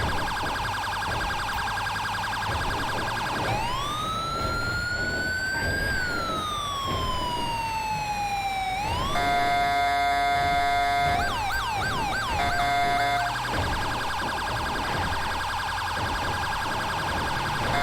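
Loud, continuous electronic sirens in a video game wail and yelp at an accident scene, sweeping up and down in pitch, then switching to rapid warbling patterns over steady engine noise.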